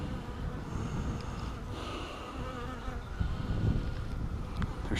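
A dense, steady buzzing of many honey bees being transferred into nucs fills the clip, close and continuous, with a low droning murmur underneath.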